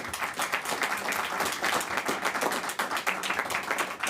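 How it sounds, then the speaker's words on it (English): Audience applause at a Washington political event, a fairly loud crowd of individual claps in quick uneven rhythm, sustained for several seconds without speech. "Let's have a round of applause for them"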